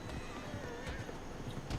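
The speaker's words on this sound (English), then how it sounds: "Slow down the horse" A ridden horse's hooves clip-clop in a steady rhythm at close range, with a soft whinny and faint ambient noise under the footfalls.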